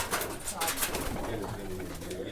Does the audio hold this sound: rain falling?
no